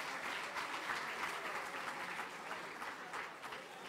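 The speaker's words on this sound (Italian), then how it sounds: "quindi un applauso" Steady applause from an audience at an evening event, a dense continuous patter of many hands at even loudness with no voices over it.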